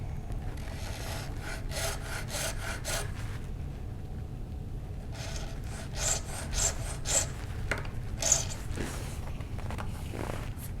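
A bone guitar nut being sawed and filed to cut string slots, with repeated close rasping strokes in short bursts, a pause in the middle, then more scraping strokes.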